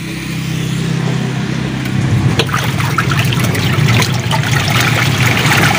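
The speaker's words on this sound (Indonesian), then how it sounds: "Kita sudah coba isikan air ya, dan kita akan coba nyalakan pencucinya." Water pours and trickles steadily into a washing machine drum as the washer switches on, a continuous close rushing splash with a low hum building underneath partway through.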